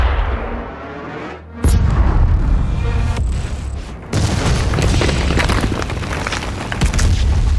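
The Mars Core cannon in Doom Eternal fires and explodes, with two loud, sudden blasts that each roll into a sustained heavy roar and rumble.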